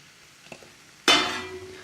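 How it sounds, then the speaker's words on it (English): Chorizo goes back into a hot pan and is stirred in for chorizo and eggs, bursting into a loud, close sizzle after a faint clink, then hissing steadily with another scrape at the end. "after letting that go for about a minute or so, I'm going to go ahead and add my chorizo back in"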